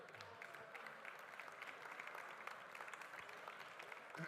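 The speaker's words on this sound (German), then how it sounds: "Einen großen Applaus bitte" Audience applause at the Swiss Coffee Festival, a steady, dense wash of clapping heard from a distance and fairly faint throughout.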